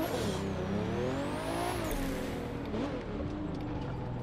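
A race car in The Crew 2 revving as it downshifts, a loud continuous engine whine sweeping down and then climbing again in pitch, with a faint tire squeal, no talking.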